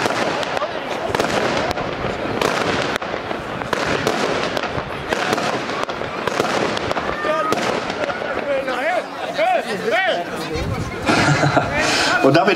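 A gold palm finale firework cake fires a rapid barrage of bursting shots with crackling tails at an outdoor demonstration shoot, while a crowd chatters and laughs nearby over the continuous explosions.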